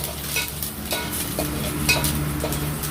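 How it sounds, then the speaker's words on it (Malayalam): Sliced onions and curry leaves frying in coconut oil in a pan, a steady close sizzle with spoon-stirring scrapes and clinks running throughout, no voices. "വെളിച്ചെണ്ണ ഒഴിച്ച് സവാള വഴറ്റിയെടുത്ത് അതിലേക്ക് നമ്മൾ 2 തണ്ട് വേപ്പിലയാണ് ചേർത്ത് കൊടുക്കുന്നത്."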